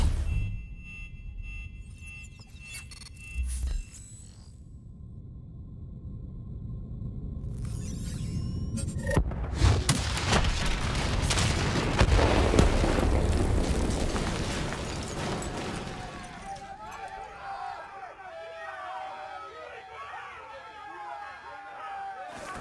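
A heavy detonation booms and rumbles through an Egypt station mission in Call of Duty: Black Ops 3, a long loud roar swelling mid-clip after quieter electronic tones, with debris settling afterward and voices present.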